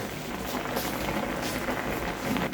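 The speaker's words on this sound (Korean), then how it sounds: "찌개가 맛있게 보글보글 끓고 있거든요." Spicy Korean tofu stew boiling hard over fairly high heat, a steady dense bubbling and popping that continues without a break, close and moderately loud, with no talking.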